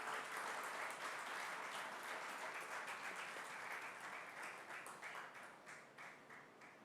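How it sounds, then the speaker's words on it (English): Audience at an annual conference in Naya Raipur gives a warm round of applause for a speaker, a dense wash of clapping that stays full for several seconds, then gradually thins into scattered claps as it winds down. "please give a big round of applause to Dr. Hisashi Nikaido."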